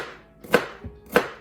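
A knife chops through an onion on a cutting board in two sharp, evenly spaced strokes, each with a soft thud underneath, close and clear with no talking.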